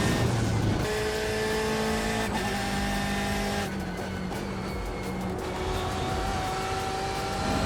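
A BMW M8 GTE race car in a racing video game, its engine note stepping down through a couple of gear changes before climbing steadily under acceleration, with harmonic whine throughout and no talk.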